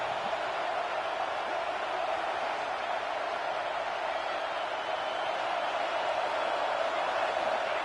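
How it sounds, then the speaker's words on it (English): A steady, unbroken roar from a packed stadium crowd in a college football video game fills the whole stretch, even and loud with no distinct shouts or talk. "This crowd is trying to inspire this defense to make a big red zone stop."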